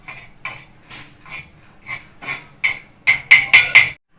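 A spoon clinks against a pan while stirring a natural hair dye mixture over a low flame, with eight or so evenly spaced scraping strokes that grow quicker and louder toward the end.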